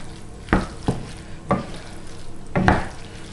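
Three or four soft scraping stirs of a minced meat, vegetable and rice mix in a pan, each stroke a brief sizzling rasp, close and fairly quiet.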